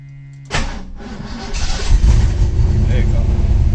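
A 1989 Ford Mustang GT engine cranks and catches after a faint steady hum, then settles into a loud, rumbling idle close by.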